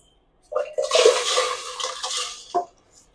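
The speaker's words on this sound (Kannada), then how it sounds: "ಇವಾಗ ಅಕ್ಕಿ ಹಾಕ್ತಾ ಇದ್ದೀನಿ" Uncooked rice poured into a pot holding three cups of water for tamarind rice, a rushing, splashing pour of about two seconds with a brief clatter near the end.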